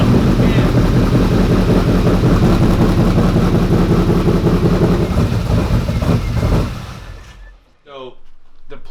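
A Ford F150 prerunner engine runs at a steady, loud idle for several seconds with wind buffeting the microphone, then cuts out abruptly, and the same close, loud rumble returns near the end.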